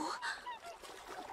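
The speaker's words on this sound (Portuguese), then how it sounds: "Cisnes. Aham, cisnes." Swans on a lake calling in a series of nasal, honking cries, faint and somewhat distant, overlapping one another in an irregular run.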